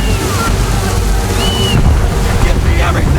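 Strong wind and crashing waves surround a sailing ship at sea in Assassin's Creed 3, a constant loud rush of gusts and surf with brief voices faintly underneath.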